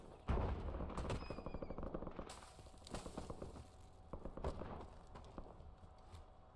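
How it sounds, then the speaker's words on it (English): Rapid bursts of gunfire crackle in a Warzone match, sharp repeated shots and fusillades sounding at a distance across a couple of seconds, with footstep-like thuds and game ambience around them. "heard gunshots, but I have no idea where they're at."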